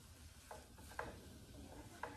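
Scrambled eggs being stirred and flipped in a pan give a soft, continuous scraping with a faint sizzle, broken by a few sharper spatula scrapes against the pan surface, quiet and close.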